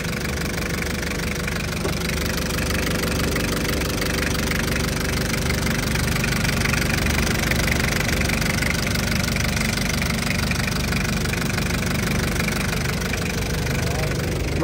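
An Isuzu diesel engine in a TCM 2.5-ton forklift idles steadily with a knocking clatter, loud and continuous, with a voice faintly underneath.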